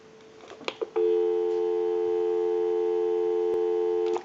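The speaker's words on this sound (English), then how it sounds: "Go ahead and give you some dial tone." Steady, unbroken dial tone on a converted Popeye novelty telephone, starting abruptly after some faint clicks and handling noise and holding at an even level for about three seconds before cutting off.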